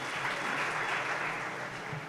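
An audience at a weekly community talk on health breaks into steady applause, a continuous wash of clapping at moderate volume that stays even throughout the short stretch.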